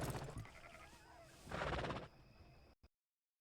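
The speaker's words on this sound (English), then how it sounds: "It's sheep." Sheep in the Red Dead Redemption 2 video game bleat in a wavering, whinny-like cry, with a louder drawn-out call midway, then cut off abruptly into silence.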